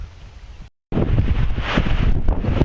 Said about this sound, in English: it's windy. It's been windy.